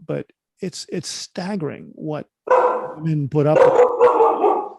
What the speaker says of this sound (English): I'm very sorry about the dogs